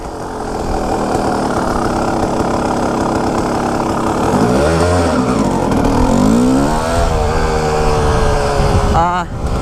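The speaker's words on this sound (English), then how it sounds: "This is my 2001 Kawasaki KX250 two-stroke." A 2001 Kawasaki KX250 two-stroke motorcycle engine runs loud and close, idling and then revving in rising and falling sweeps for the whole stretch, with a brief blip near the end.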